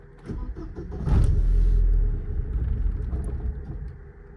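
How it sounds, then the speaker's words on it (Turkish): A cold Opel Vectra engine is cranked with no throttle, a brief starter whirr that catches into a loud rumbling idle which surges, then settles into a steady lower idle, close up. "buz gibiyken marş basacağım"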